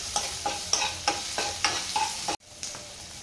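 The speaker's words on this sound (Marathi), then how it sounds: "त्यानंतर ह्यामध्ये घालणार आहे टोमॅटो पण परतून घ्यायचं आहे।" Tomatoes sautéing in hot oil in a pan while being stirred, a steady sizzle broken by about eight regular scraping strokes of a spatula. Close and fairly quiet.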